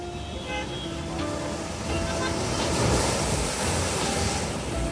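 Surf rolls continuously onto a Mumbai beach lined with trees after rain, a dense, loud wash with wind buffeting and faint distant traffic and a horn underneath.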